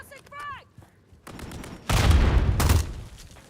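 A frag grenade blast and bursts of gunfire in a first-person shooter video game, heavy loud booms rolling out after a short lull, with brief voice sounds at the start.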